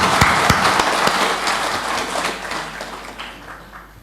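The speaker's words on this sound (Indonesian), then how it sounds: "Terima kasih atas paduan suara dari paroki OMK. Buah Batu kita kasih aplaus." Audience applause for a parish youth choir at a church Mass, a dense burst of many hands clapping at once, loud and close, slowly thinning out over a few seconds with no voices.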